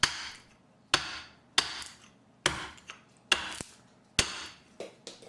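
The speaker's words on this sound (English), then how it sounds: "I'll chop towards the front of the handle" Dry wood chopped to shape a ferro rod handle, heard as sharp, close blade strikes, about seven in a slow, fairly even rhythm, each with a short ringing decay and quiet pauses between.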